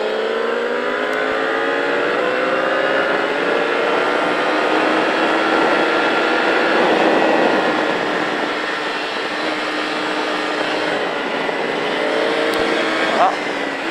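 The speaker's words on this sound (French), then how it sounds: "on fait tourner la moto, on lâche les freins. Filet de gaz gentiment" Motorcycle on a dual-run riding course near Pau Arnos, rider easing on a gentle thread of throttle; a steady, continuous engine drone with rising harmonics, fairly close and sustained throughout, with a speaking voice faintly mixed in.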